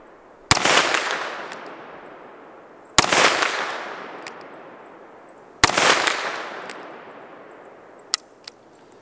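Three loud, booming shots from a Smith & Wesson 350 X-Frame revolver, fired outdoors at a 100-yard target, each with a long decaying echo, followed by faint distant pings.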